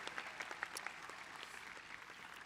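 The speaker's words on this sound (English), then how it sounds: "Let's give a round of applause for all those" Graduation audience applause at a Carroll Class of 2021 ceremony, a soft, distant patter of clapping with a few sharper claps standing out near the start before it thins and tapers off.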